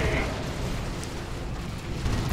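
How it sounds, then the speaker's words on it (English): An assault cannon barrage in the Dawn of War 2 strategy game, heard as a dense, continuous rumble of rapid explosions and booming fire across the whole stretch with no pauses. "Another assault cannon barrage."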